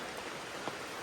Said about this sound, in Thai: โอ้ฝนมันตกไกลถ่ายไม่ได้